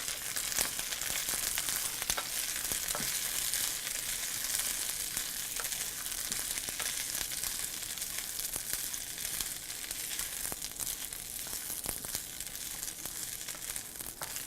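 A pound of green beans sizzles steadily in a hot pan, a continuous close hiss with occasional clicks and scrapes from stirring, no voices throughout.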